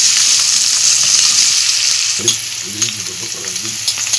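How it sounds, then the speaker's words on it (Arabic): Potato pieces sautéing in a hot pan with meat, a steady loud sizzle and hiss throughout, with a few scraping stirs near the end. "نشوح بقى فيها كده شويه"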